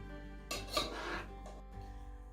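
A spoon stirs melting butter and marshmallows in a pot for Fruity Pebbles treats, with brief scraping and clinking against the pot and a low steady background hum; no one talks.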